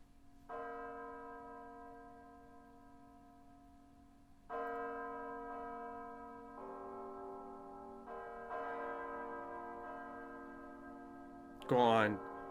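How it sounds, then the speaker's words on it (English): Church bells toll slowly, several rich ringing strikes with long resonant decays, fairly distant and alone. "There's the bells."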